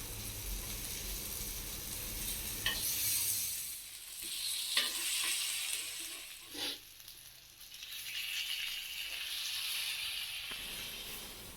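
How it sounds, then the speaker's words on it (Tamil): Seer fish (vanjiram) pieces frying in oil over a medium flame, giving a steady sizzle with hissing bursts and a few clinks as the pieces are turned. "மீன் துண்டுகளை திருப்பி திரும்பவும் மிதமான தீயில் வச்சு ஃப்ரை பண்ணுங்கள்"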